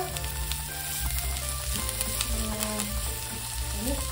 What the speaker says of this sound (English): We'll put our carrots and then we'll stir.